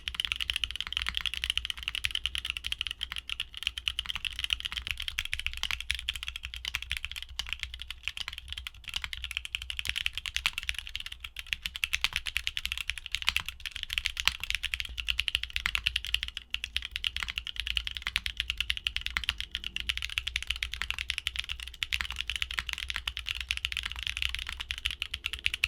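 Back-to-back typing tests on clacky mechanical keyboard switches: nearly half a minute of continuous, fast close keystrokes forming a dense clattering stream, with no talking.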